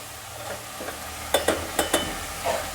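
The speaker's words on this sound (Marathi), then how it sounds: "आता छानपैकी भाजी आपल्याला वरखाली करून घ्यायची आहे" A spoon stirs mixed vegetable curry in a pan. Four sharp scrapes come in quick succession near the middle, with a softer stir at the end, all over a faint background hiss. Nobody speaks.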